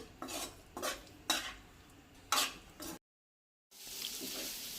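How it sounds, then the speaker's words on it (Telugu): Fried chicken magic sticks are tossed and stirred in a pan with a utensil, giving several scraping, clattering strokes with light sizzle, then a brief silence before a steady frying hiss resumes. "ఇదిగోండి మనం ఫ్రై చేసిన చికెన్ మ్యాజిక్ స్టిక్స్ని ఇందులో వేసుకొని మొత్తం మిక్స్ చేసుకుందామండి"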